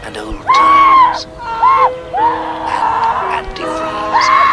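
Screams from a TV horror episode set around a party, several rising-and-falling cries in bursts over about four seconds, loud and overlapping against a steady background.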